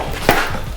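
A single short, dull knock sounds as a part slides back and strikes a nut, close and brief.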